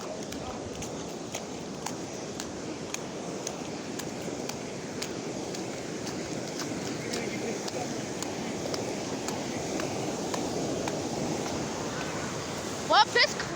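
Floodwater rushes steadily through a flooded creek, a constant broadband roar with scattered splashes and a few sharp knocks near the end.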